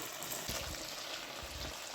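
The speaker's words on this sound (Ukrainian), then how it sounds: "Картофанчик буде чіпсиками. Це молоденький свій на цій сковорідці." Young homegrown potatoes cut as chips frying in a skillet outdoors over a fruitwood charcoal grill: a dense, steady sizzle of hot oil, close and continuous, with faint stirring knocks underneath.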